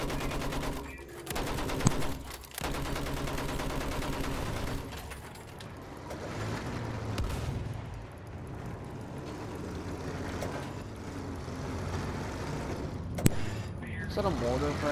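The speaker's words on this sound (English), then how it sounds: "Is that a mortar, practically?" Mortar blasts and bursts of gunfire from the Battlefield 1 beta, a dense loud mix of shots and explosions with sharp peaks, under people talking throughout.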